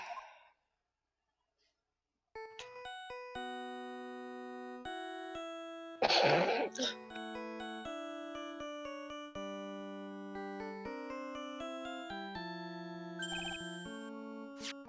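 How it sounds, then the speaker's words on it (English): A mobile phone rings with a chiptune-style melody of clear electronic tones that plays on steadily, interrupted by a sigh-like breath, with no talking. "Sorry, that's my phone."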